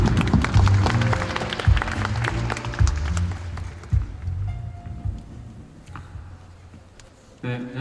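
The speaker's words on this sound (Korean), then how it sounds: "큰 박수 부탁드립니다" An audience at a Sony Korea Alpha 9 camera product launch gives a round of applause, sharp clapping bursts mixed with a presenter's voice over a hall sound system, tapering off toward the end.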